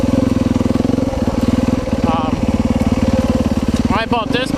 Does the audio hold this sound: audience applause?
no